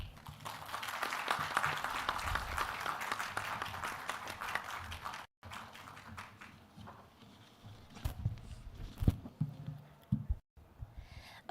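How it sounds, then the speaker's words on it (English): An audience at a panel discussion applauds a keynote speaker, with dense clapping that thins into scattered, uneven claps and fades out, faint and somewhat distant. "A big round of applause for our keynote speaker."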